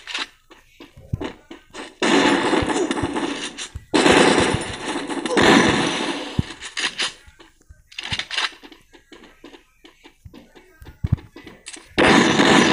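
Gunfire in the Garena Free Fire video game, loud bursts of automatic fire from close range broken by short pauses, with faint talk in the gaps.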